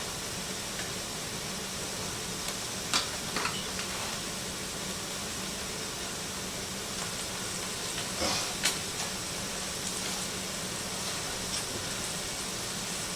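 Garlic and Southwest blend seasoning sizzle in a pan with beef while cheesy tacodillas are cooked, giving a steady, dense frying hiss close by, with a few faint clinks and no talking.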